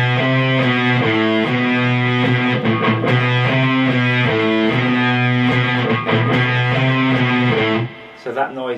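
Distorted electric guitar plays a riff with chugging, palm-muted notes and sustained chords, loud and close, ending with a brief muffled scrape from a finger resting on the strings.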